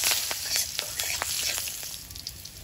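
Black cumin seeds and slit green chillies hitting hot fish-frying oil in a kadai, giving a close, busy sizzle broken by sharp pops and spatters over a short burst, with no talking.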